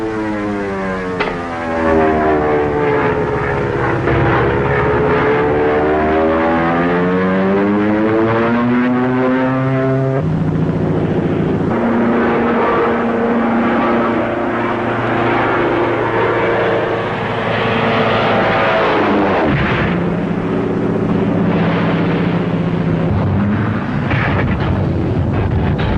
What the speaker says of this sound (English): Who's stunting that plane?